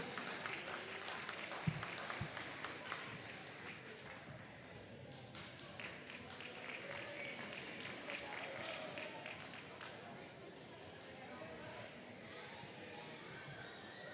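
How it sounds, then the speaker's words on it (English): A gym crowd applauds a girls varsity basketball team and its coaches at halftime, steady clapping mixed with crowd chatter and a few sharp ball bounces throughout. "Please give these ladies and their coaches a round of applause."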